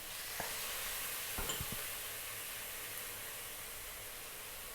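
Corned beef sizzles in a pan as light soy sauce goes in, a steady bright frying hiss with a few scraping stirs near the start, fading slightly toward the end.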